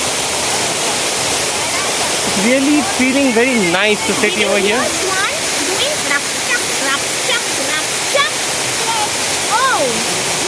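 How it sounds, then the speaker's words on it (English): Waterfall in the Ramoji Film City garden pours with a steady broadband rush throughout, while people talk over it and birdlike tonal calls chirp intermittently above the water noise. "Did you like the waterfall?"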